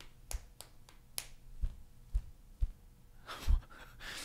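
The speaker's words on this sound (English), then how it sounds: "then you just snap your finger against it" About eight sharp, quiet finger snaps against an object, spaced irregularly over a few seconds in a casual podcast setting, with faint breathy sounds between them.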